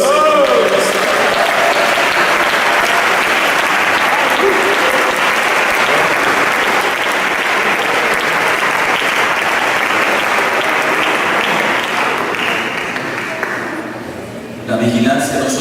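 A church congregation at a Sunday school sermon breaks into loud, sustained applause that fills the room steadily for about fourteen seconds before dying away abruptly.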